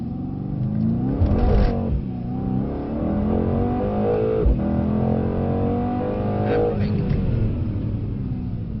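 A Mercedes-AMG C63 pulls hard on a track, its loud engine note rising through the gears before easing off under braking, with a short burst of speech from inside the car.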